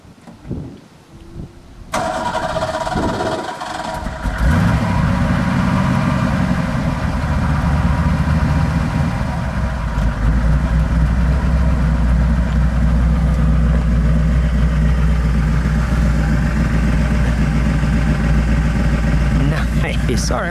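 A 1991 De Tomaso Pantera 90 Si starts up and settles into a loud, steady idle with a deep, continuous rumble close by that holds to the end.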